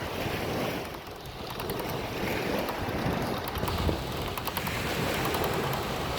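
Ocean surf on a Sanibel Island, Florida beach, a steady wash of breaking waves mixed with strong wind buffeting the microphone, continuous and fairly loud with no talking.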